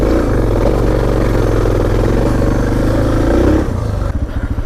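Suzuki DR dual-sport dirt bike engine idling low, a loud, steady, close single-cylinder thump with a rapid even pulse that loosens and slows near the end.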